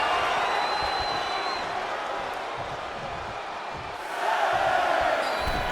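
Wrestling crowd cheering at a showdown event, a dense roar that dips slightly through the middle and then swells louder again, with a commentator talking over it.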